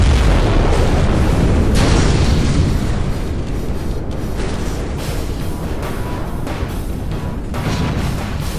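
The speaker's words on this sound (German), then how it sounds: "Wir verabschieden uns von Ihnen mit einer der gewaltigsten Explosionen, die wir bisher in Strategiespielen erleben durften." A massive explosion in the real-time strategy game Command & Conquer Generals roars continuously, dense and loud with a deep rumble, with sharper bursts and booms layered through it.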